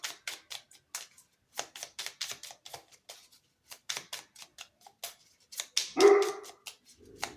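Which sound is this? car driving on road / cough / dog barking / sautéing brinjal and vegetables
dog barking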